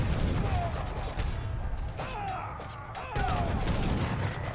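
Cannon and gunfire from an Age of Empires III battle, with repeated booms and crackling volleys layered into a dense, continuous din of combat and faint unit noise.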